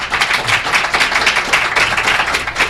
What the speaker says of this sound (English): Please give our panelists an applause